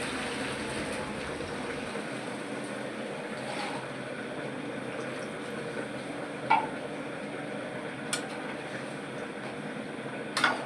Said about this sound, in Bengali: এবার ঝোলের জন্য পানি দিয়ে দিলাম।